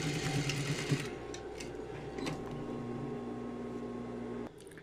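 A sewing machine runs a backstitch to finish a seam, humming steadily and close for several seconds before stopping abruptly near the end, with a faint handling noise afterward.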